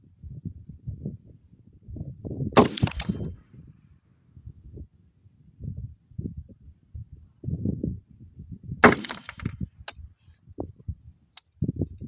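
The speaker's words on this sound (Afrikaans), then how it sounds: "Gaan 2 skote skiet." Two rifle shots ring out several seconds apart during a shooting test at a target range, each a sharp, loud crack standing out over low background rumble and handling noise.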